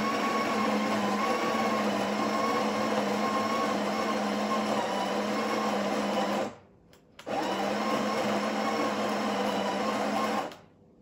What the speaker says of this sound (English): I'm just going to quickly grind and see what's the grind size like.